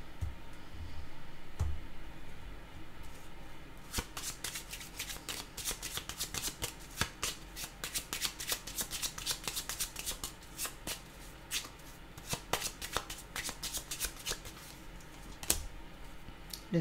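Cards are shuffled for a card reading: close, dry riffling and flicking in dense bursts of rapid ticks, continuing for a long stretch with short gaps and no talking.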